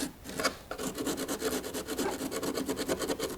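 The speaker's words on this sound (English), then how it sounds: "I'm going to use a little bit bigger chisel to, I'm almost kind of sanding away the thinset" A steady, rhythmic rasping scrape of a chisel abrading thinset off a Schluter foam shower pan, close up, with repeated strokes and no talking.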